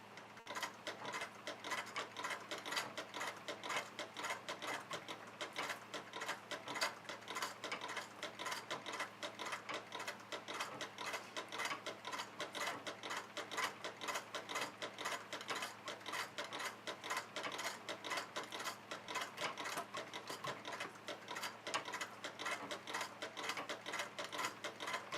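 A sewing machine runs steadily while stitching a fabric rectangle, giving a fast, even mechanical clatter that continues without pause and without voices.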